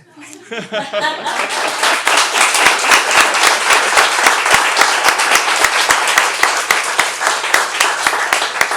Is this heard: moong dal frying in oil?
no